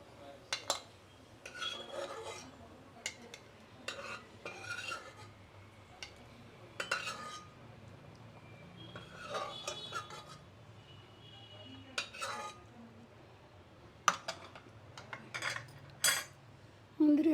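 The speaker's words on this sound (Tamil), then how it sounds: "முந்திரியை வறுத்ததுக்கப்புறம்" Cashews are roasted in a pan for millet payasam, with a spoon repeatedly scraping and clinking against the metal in short bursts over a quiet background and no talk.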